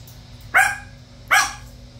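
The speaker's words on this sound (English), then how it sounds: "There is no need to be barking." A dog barks twice, close and loud, each a sharp single bark with a short tail, spaced under a second apart over quiet room hum.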